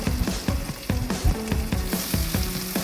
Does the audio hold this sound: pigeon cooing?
no